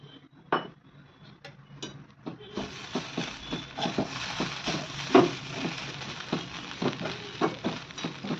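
Peanuts dropped into a pan with soft poha for kanda poha, followed by a steady run of light clinks and scrapes of a utensil against the pan, close and fairly quiet.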